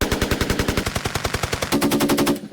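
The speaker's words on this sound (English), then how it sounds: "And upcoming is the 15-round burst." A rapid burst of about fifteen automatic gunshots, loud and close, fired in an even, fast rhythm with no pauses and no talking.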